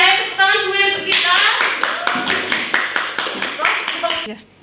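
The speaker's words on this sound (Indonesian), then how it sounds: "Ayo tepuk tangan semua untuk kita." A classroom of children clapping hands in a rhythmic, roughly regular series of sharp claps, loud and close, with a teacher's voice briefly heard over the start.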